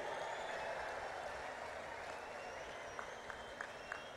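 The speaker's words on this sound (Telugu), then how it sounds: "గట్టిగా చప్పట్లు కొట్టి స్వాగతం పలకండి" A large crowd at an outdoor public meeting in Kurnool claps to welcome Prime Minister Narendra Modi, a broad sustained wash of applause with faint background noise and a few sharper claps near the end.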